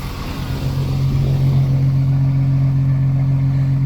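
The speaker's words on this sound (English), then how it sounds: "I can hear the exhaust, but there ain't nothing coming out of it." A steady, low engine rumble with a droning hum from the exhaust of a Sea Ray 320 boat with MerCruiser inboard/outboard engines runs continuously and close by, without much change in pitch.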